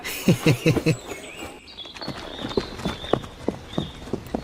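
A horse carrying heavy luggage clip-clops along a rural village path, a quick run of close hoof strikes followed by slower, steadier steps, with faint birdsong and a high whistle above.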